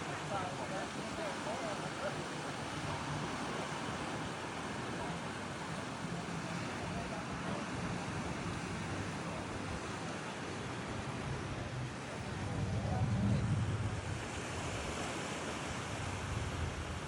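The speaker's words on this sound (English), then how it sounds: "First port of call, the Silver Sands beach." Steady surf rolls in at Silver Sands beach on Koh Samet, a constant broadband wash of waves, with a slightly louder swell near the end.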